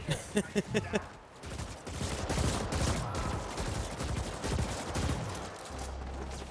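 A player's weapon in The Ascent fires in a fast burst of rapid shots, then a sustained loud stream of automatic gunfire with explosions and game effects layered over it, dense and close throughout.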